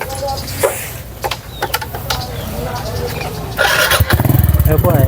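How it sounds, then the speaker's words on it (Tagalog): A motorcycle carries riders through a typhoon-hit area of Lemery, Batangas, its engine idling roughly and then revving louder as it pulls away, with people talking over it throughout. "Sakay lang tayo dito sa motor."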